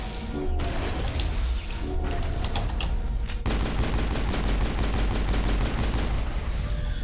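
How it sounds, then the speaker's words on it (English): Rapid gunfire in Mass Effect as weapons shoot at a turret, dense bursts of shots running almost continuously and growing into a steady, loud rattling volley in the second half. "it's once again just me shooting at it"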